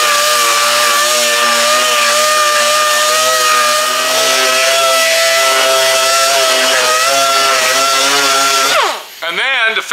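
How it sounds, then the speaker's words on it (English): A DA sander with 180 grit sandpaper works a solid body electric guitar being stripped of paint, a loud steady motor whine with a constant tone running for about nine seconds before spinning down. "I'm going to go ahead and take some DA sandpaper, and that's going to be 180 grit"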